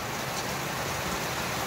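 Heavy rain pours down steadily on a road beside an overflowing roadside drain, a dense, continuous hiss of water close by with no talking.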